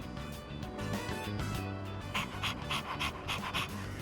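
A dog panting in Persona 3 Reload, quick rhythmic breaths repeating steadily and close, with no talking over it.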